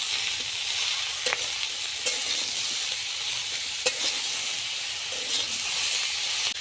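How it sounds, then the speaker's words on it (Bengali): Vegetables seasoned with salt, sugar and turmeric being stir-fried in a pan give a steady close sizzle, with a few sharp scrapes and clicks of the spatula against the metal. "অল্প পরিমাণে চিনি আর হাফ চামচ হলুদ গুঁড়ো দিয়ে আরেকটু নেড়ে নেব।"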